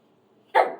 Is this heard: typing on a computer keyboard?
no